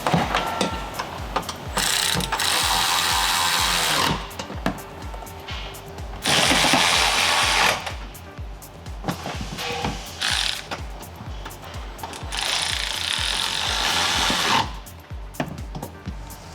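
A ratchet clicks in repeated bursts while the rear hanger mount bolts are tightened during a ZZP exhaust install on a Cadillac ATS-V, loud and close, with short pauses between runs of rapid clicking.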